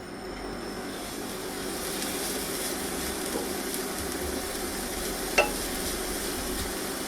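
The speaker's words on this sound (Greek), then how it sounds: "Μόλις κάψει το λάδι θα ρίξουμε μέσα το κρεμμύδι." Chopped onion hits hot olive oil in a pan, setting off a steady, moderate sizzle with a stirring texture and one brief sharp clink near the end, no voices.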